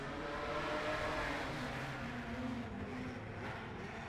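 Modified sedans race around a clay speedway at Murray Bridge in a series feature event, their engines a steady, continuous roar of several cars blending together at a distance, with no one talking.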